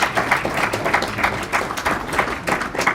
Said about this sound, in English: I know we're clapping